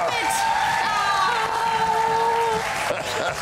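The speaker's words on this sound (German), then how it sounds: "Einen kräftigen Applaus, Mensch, bitte." A TV game-show studio audience applauds and cheers for a contestant named Klaus, thick continuous clapping with whoops and a sustained cheering crowd, while a host talks over it.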